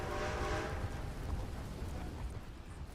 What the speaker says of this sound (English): Here is a train.